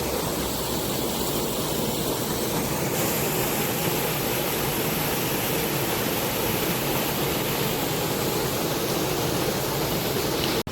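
Hot sulfur spring water pours steadily from a pipe coming out of the mountain, a continuous loud rushing splash with no pauses, heard up close and alone.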